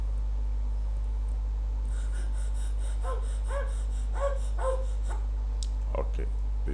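Rhythmic dog panting used as a sound effect in a race between a man and his dog, several quick breathy pants in the middle over a constant low hum, then a short sharp sound near the end.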